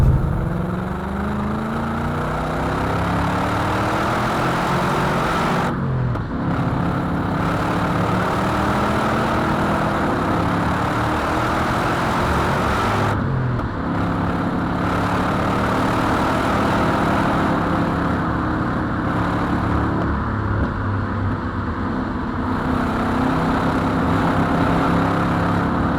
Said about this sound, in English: Enjoy the engine.